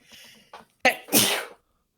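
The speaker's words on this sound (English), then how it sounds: "I'm gonna sneeze." A single sharp sneeze with a quick inhaled buildup, loud and close, followed by silence.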